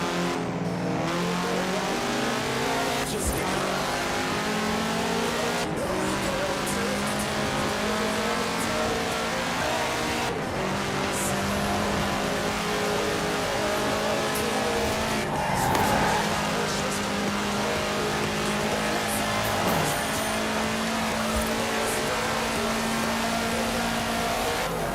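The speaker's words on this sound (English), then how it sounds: "take this Volkswagen Type 2 and attempt to make it take off" A Volkswagen Type 2 van tears along at high speed in Forza Horizon 5, its engine droning loud and steady with revs rising and dipping and occasional tire noise throughout.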